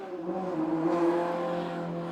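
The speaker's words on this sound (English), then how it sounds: "Oh, Ferrari just drove by, that's kind of cool." A Ferrari drives past, its engine a short, steady drone that swells slightly and then fades as the car goes by at moderate distance.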